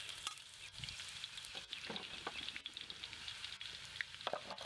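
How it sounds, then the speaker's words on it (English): Spiders fry crisp in a hot frying pan, a close, continuous sizzle with crackling pops and spatters throughout. "And that is hot, that is sizzling."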